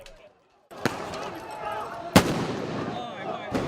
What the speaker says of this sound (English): Firecrackers, stun grenades, glass bottles were thrown into the air.